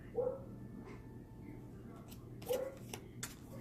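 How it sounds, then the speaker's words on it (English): A dog barks twice in the distance, brief yelps spaced a couple of seconds apart, faint against a quiet room. "If that dog don't stop barking."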